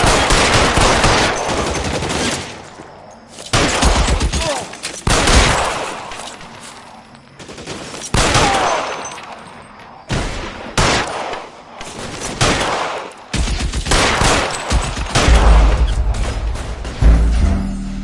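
Bursts of rapid gunfire in L.A. Noire, loud and close, come in repeated volleys of automatic fire and single shots, separated by short lulls.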